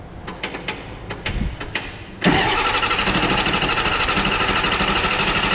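A 7.3 Powerstroke diesel in an OBS Ford truck cranks in short uneven bursts, then catches and settles into a loud, steady, clattering run that fills the rest of the stretch.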